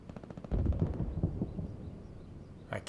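Gunfire and low booming shots in the World War II shooter Hell Let Loose, a dense burst of heavy reports with rumbling echo that fades, then a short sharp crack near the end, with no talking.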